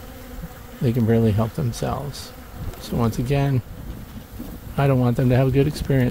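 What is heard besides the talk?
bees buzzing at a weak hive with a robbing screen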